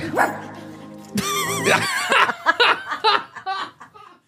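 A woman imitates a dog, panting in quick breaths and then letting out a few sharp barks, close and loud, with laughter mixed in.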